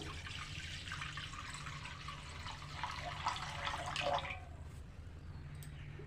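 Water is poured into a kadai on a gas stove to cook Gobindobhog rice for payesh, a soft, steady splashing that builds over about four seconds and then stops, quiet and close, with no talking.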